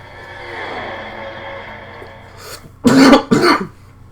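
A person recovering from a cough clears their throat and gives two loud, close coughs in quick succession after a stretch of quiet background hum.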